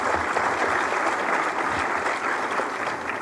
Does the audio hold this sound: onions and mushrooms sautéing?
no